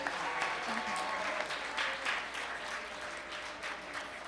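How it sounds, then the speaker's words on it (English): Audience applause for the ASL interpreter at a women's reception event, a steady wash of many hands clapping at moderate distance, sustained without a break through the whole stretch. "I want to take some time to really clap it up for our ASL interpreter for the night, Charlotte Spinkston"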